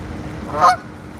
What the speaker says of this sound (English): Look at this geese, Canadian geese here.